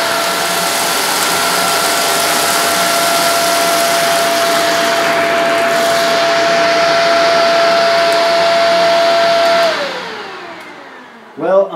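Shark Powered Lift Away Speed vacuum cleaner running steadily and loud while sucking up rolled oats on a floor, a constant whine and whoosh with a rattly texture, then the motor winds down near the end with a brief clatter.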